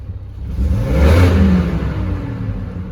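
A Chevrolet Trailblazer SUV engine runs steadily with a low rumble, briefly swelling louder in the middle before settling back to an even idle.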